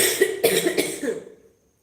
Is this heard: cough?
yes